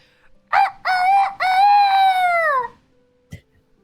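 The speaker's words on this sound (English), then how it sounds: "That's a rooster." A rooster crows once, loud and close, a stuttering start running into a long drawn-out call that falls away at the end, followed by a brief click in an otherwise quiet room.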